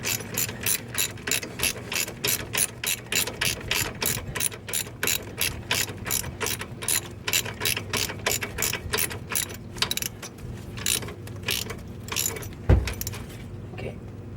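Ratchet tightening a bolt on the front brakes of a 2000 Jeep Grand Cherokee, rapid repeated clicking strokes in steady bursts, close and loud, ending with a single clunk near the finish.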